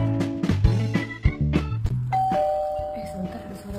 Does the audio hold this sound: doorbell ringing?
yes